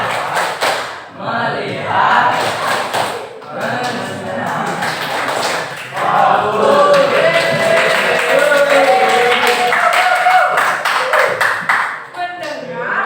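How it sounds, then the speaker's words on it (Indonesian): A high-school class in Indonesia performs a 'focus clap' rhythm, a short patterned run of claps from the students, close and fairly loud, with a teacher's voice and chanting mixed through it. "Tepuk fokus"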